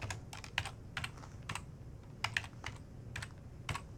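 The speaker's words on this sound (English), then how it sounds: "And again, we can type." Quiet typing on a computer keyboard: irregular, sharp key clicks in small bursts, close and faint against a soft background hum.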